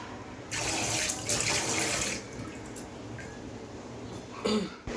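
Tap water runs steadily into a kitchen sink while prawns and fish are rinsed, a continuous splashing hiss throughout with a louder burst of flow partway through and near the end.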